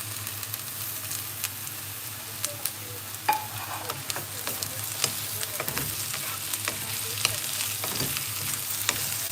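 Chopped capsicum fries in a pan for soybean masala pasta, a steady close sizzle with sharp clicks and scrapes as it is stirred, and no talking.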